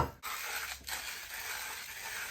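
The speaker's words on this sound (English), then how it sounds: "very easy to feed the coffee into the grinder" A 1Zpresso J-Max hand coffee grinder turns, producing a steady, quiet, close mechanical grinding and ratcheting rasp with brief pauses near the start.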